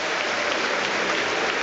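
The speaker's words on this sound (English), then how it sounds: "there are cheers and applause from their supporters here" Leeds United supporters applauding and cheering at Elland Road after a Premier League match, a dense, steady wash of crowd clapping filling the whole stretch without pause.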